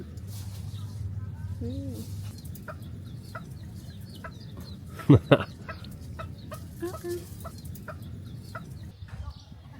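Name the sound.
chickens clucking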